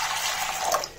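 Water poured onto sabudana (tapioca pearls) in a bowl to wash them, a steady close splashing pour with a brief brighter surge near the end, no talking.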